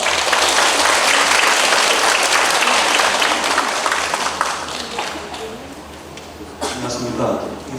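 Large audience at an elementary school parents' assembly in a hall applauds loudly, the dense clapping fading out after about five seconds before a short renewed swell.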